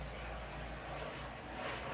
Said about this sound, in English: You can hear an airplane going on overhead.